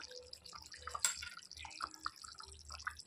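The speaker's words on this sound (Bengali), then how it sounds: "দু চামচের মতো দিয়ে দিয়েছি গোলাপ জল" Small dripping and trickling splashes as about two spoonfuls of rose water go into a pot of chicken masala curry with boiled potatoes, soft liquid drips close by with faint kitchen noise.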